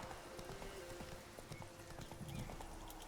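A horse's hooves clip-clop in The Witcher III, a faint, steady rhythm of hoof beats on the ground under a soft game ambience, with no talking.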